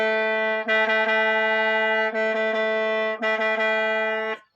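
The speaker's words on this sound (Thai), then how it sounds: "เอาเป็นเสียงทีต่ำก่อน" A reedy khaen, a Lao-Thai free-reed mouth organ, holds one low Ti note steadily for several seconds, with a couple of slight breath re-attacks, close and alone.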